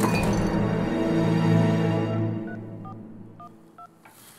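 A telephone dials out for a call on an Egyptian call-in talk show, its short, evenly spaced touch-tone beeps sounding clearly after a loud musical sting fades away.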